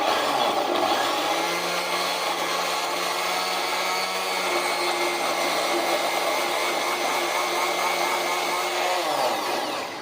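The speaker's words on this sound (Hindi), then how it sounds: "दही डालेंगे इसमें तकरीबन 3-4 चम्मच और इसे हम ग्राइंड कर लेंगे" A mixer grinder whirs loudly and steadily as it grinds cumin with yogurt, a close, continuous motor whine for about nine seconds before it winds down at the end.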